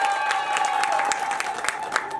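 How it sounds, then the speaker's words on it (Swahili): An audience at a women's association fifth anniversary gathering in Nairobi applauds to welcome the chairwoman. Steady, fairly dense clapping from a crowd, with a faint voice under it. "Tupigieni makofi anapokuja kutukaribisha."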